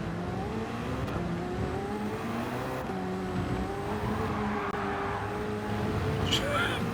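A race car in Gran Turismo 7 drifts through a final corner, its engine droning steadily with shifting pitch and tyre scrub over a constant roar, while a person talks over it.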